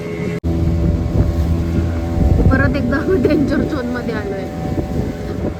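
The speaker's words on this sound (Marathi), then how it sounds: "कारण वारा आता खूप सुटलाय, त्याच्यामुळे लाटा पण जास्त उसळत आहेत." Strong wind and surging sea waves near the shore close to Nivati lighthouse, Malvan, a steady roaring rush of wind and water throughout, with someone talking over it.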